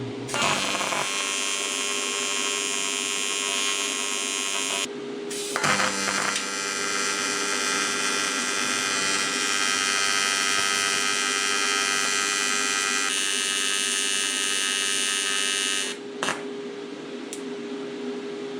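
TIG welding aluminum radiator brackets for a Barracuda produces a steady, close electrical buzz that runs in long stretches, breaking briefly twice before ending.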